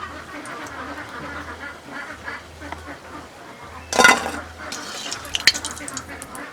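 Gourd leaf fritters are lifted from hot frying oil with a slotted spoon: a steady sizzle runs throughout, broken by a loud scraping, clattering burst near the middle and a sharper clink soon after.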